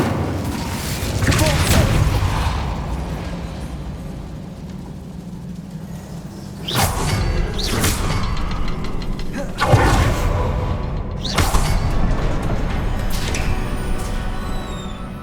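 Incendio fire spell cast in the video game Hogwarts Legacy, several loud bursting whooshes of flame at intervals over a steady low ambient rumble, with no talking.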